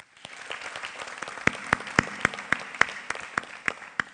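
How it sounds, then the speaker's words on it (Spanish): An audience at a Tijuana environmental forum gives a round of applause, many hands clapping with several sharp, distinct claps standing out near the microphone. "¡Aplausos!"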